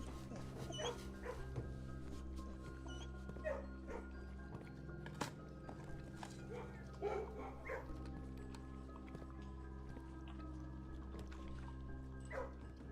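Dogs in a kennel in the video game Blue Prince give soft, scattered barks, yips and whimpers over a steady low hum, quiet and spread across several seconds.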